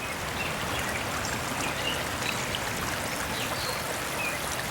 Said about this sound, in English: There's a little creek there, or had a little creek. Now it's taking over our entire yard.